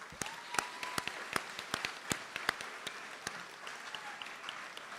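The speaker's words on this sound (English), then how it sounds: "I want you to join me in a robust, raucous round of applause for your parents." Sparse, scattered claps ring out at a high school underclassman assembly as students applaud their parents, individual sharp hand claps spaced irregularly over a quiet background rather than a full ovation.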